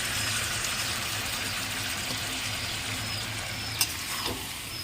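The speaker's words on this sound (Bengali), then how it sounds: "এখন একটু নাড়িয়ে নেব" Duck curry with potato and eggplant being stirred and fried in a pan, a steady soft sizzle with faint scraping of the spoon and one sharp clink near the end, close and continuous with no talking.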